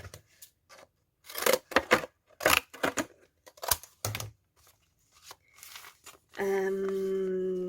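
Scissors cut paper for a brown bag junk journal page in short separate bursts of snipping and rustling, then a steady hum rises at the end.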